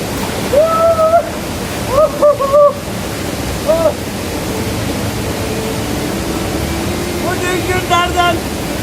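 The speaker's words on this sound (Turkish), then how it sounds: "Sapsarı kayaların içerisinden turkuaz renginde mavi sular akıyor." Turquoise stream water flowing among yellow rocks in the Amanos mountains, a constant broadband rush of running water heard up close, with a voice speaking over it in short bursts.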